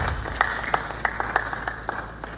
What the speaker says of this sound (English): clap for this guy